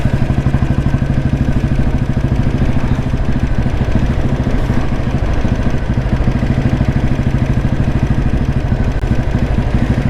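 A 1987 Royal Enfield motorcycle engine runs at low speed with a steady, loud, even thumping beat that holds for the whole stretch, with no voices.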